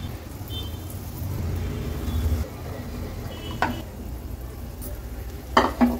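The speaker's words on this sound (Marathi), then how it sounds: "एक एक करून आपण हे केळीचे काप असे तेलावर सोडणार आहोत" Semolina-coated banana slices frying in a shallow layer of oil give off a soft, low sizzle, punctuated by a few sharp clinks of utensils against the pan.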